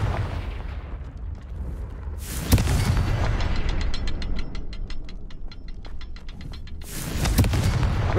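Confringo fire spells cast in Hogwarts Legacy: two loud whooshing blasts several seconds apart, with a rapid clicking, ratcheting rattle between them over a low rumbling background.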